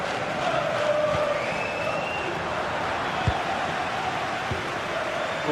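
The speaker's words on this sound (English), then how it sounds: "Well, just listen to this crowd." Football stadium crowd in a GT Sport league broadcast game, a steady continuous roar of many voices with a few thuds, filling the space without a break.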